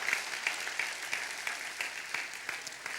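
A church congregation claps together in a quick, even rhythm during a service, with a soft, roomy sound and regular beats throughout.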